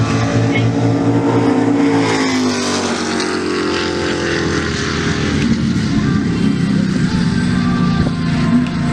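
Drag race cars, including a Barracuda, launch and race at the Julesburg NHRA track: a loud, continuous engine roar that fills the whole stretch, with an announcer's voice talking over it.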